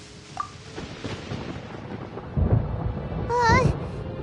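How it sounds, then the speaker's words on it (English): Low thunder rumbles and swells over several seconds in the Genshin Impact video game, with a soft background ambience and a brief higher tonal sound near the end. "Paimon hears thunder!"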